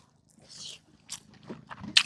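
Close, crisp bites and chewing on tuna fish gravy with rasam, eaten out on a boat at sea, with several separate crunchy mouthfuls and quiet gaps between them.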